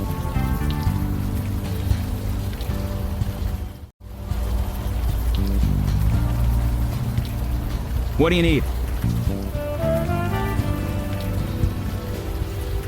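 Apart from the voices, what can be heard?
rain falling at night, from video game Unavowed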